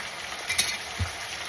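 Tomatoes added to a pan of frying peppers, onions and garlic make a steady close sizzle with a brief stir or clink midway, short and moderately quiet.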